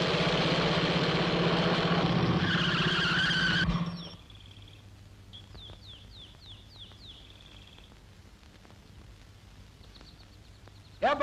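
A car turns around in a 1985 Tamil film fight scene: a loud, rough engine and tyre rush for the first four seconds, then it cuts off to a quiet background with faint bird chirps.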